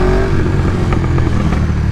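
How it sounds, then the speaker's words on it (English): A 2022 KTM 1290 Super Duke R with its exhaust valve held open runs with a loud, steady engine rumble, and a few faint crackling pops come through on the overrun. "Of course, we're getting the pops in the bangs now."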